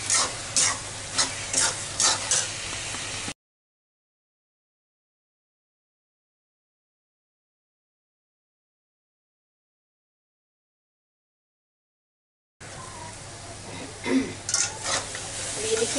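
A semolina sweet mixture with dry fruit is stirred in a kadhai, with scraping strokes at the start, then a long stretch of silence, then steady stirring and scraping again at the end.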